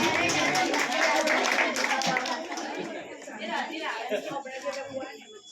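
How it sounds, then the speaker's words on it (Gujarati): Audience clapping at a Ganesh festival costume event, a dense burst of applause that thins out over several seconds with chatter and children's voices mixed in. "ખૂબ ખૂબ જોરદાર તાળીઓ મહાદેવ માટે."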